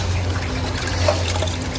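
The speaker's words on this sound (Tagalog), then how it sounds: "Hugas muna kamay doon, dali." Water trickling and splashing steadily at close range as hands are washed before a meal, with a low background hum and no voices.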